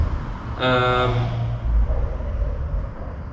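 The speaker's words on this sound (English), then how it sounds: "There goes a car making some noise." A car passes with a loud engine note, a strong harmonic roar swelling near 0.6 seconds and fading after about two seconds into a low rumble.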